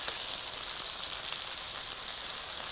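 Cheeseburger-stuffed biscuits made with ground beef sizzle steadily in a hot frying pan, a close, even hiss of frying fat with no speech.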